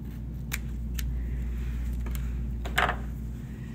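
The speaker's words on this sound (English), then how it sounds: "we're gonna cut our zipper off even with our bottoms" Scissors snip through the end of a zipper, trimming it level with the bottom edge of sewn fabric pieces, a few short crisp cuts over a low steady hum.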